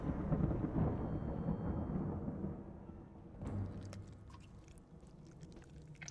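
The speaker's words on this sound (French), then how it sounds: "Le serpent siffle avant qu'un éclair de lumière se produise." A giant serpent hisses and lightning crackles in The Banner Saga 2, heard as a stormy rumble that gives way to a sharp burst of crackling, moderately loud with no voices.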